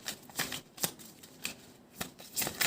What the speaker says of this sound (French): je vais tirer déjà les 5 cartes